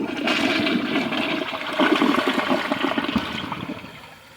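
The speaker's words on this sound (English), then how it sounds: "I don't know if this will come off with just a flush" A 2020 Foremost Eco To Go toilet flushes close and loud, with a rushing, gurgling swirl of water that peaks midway and then fades as the bowl drains.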